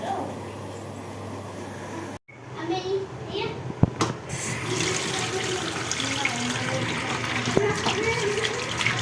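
Water pours steadily from a tap into a metal dough tray (parat) in a home kitchen. A brief pause comes first, then an unbroken splashing rush continues, with a voice faintly audible in the background.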